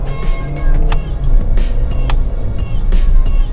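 A 2018 Honda Mobilio RS with a 1.5-litre engine and paddle shifters drives along, its engine drone steady and close with a few sharp ticks and clicks from the cabin, no voices.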